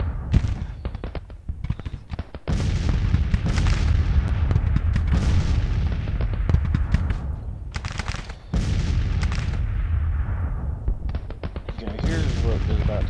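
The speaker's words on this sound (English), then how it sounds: "There's no reason for us to just take some enemy fire here." Enemy gunfire in the Civil War strategy game Grand Tacticians: dense, loud volleys of musket fire and booming shots roll almost continuously, with a few brief gaps between heavy bursts.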